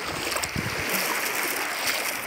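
Waves on Issyk-Kul lake washing and splashing near the shore, a steady rushing wash with small splashes, close and moderately loud, no voices.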